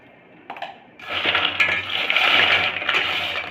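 Crispy fried nimki snacks made with ripe tomato being snapped apart, giving a close, dense crackling crunch that builds and lasts a few seconds, with no talk.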